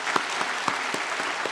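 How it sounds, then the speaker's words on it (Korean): A congregation in a church claps steadily at a teachers' dedication service, a dense patter of applause from a room full of people, moderately loud and continuous. "박수 한번 하겠습니다."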